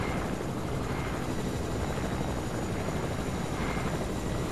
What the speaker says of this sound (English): Oh, there's another helicopter.